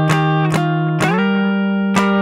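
Guitar part from 24kGoldn's "Mood": a few bright plucked notes ring out, one sliding quickly up in pitch into a sustained note before another pluck, played alone and close.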